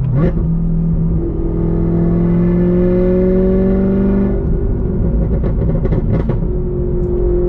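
A C7 Corvette with DSC Sport Magnetic Ride control cruises the highway in sport mode, its engine drone climbing steadily in pitch before settling into a lower, even hum over constant road rumble. No one speaks.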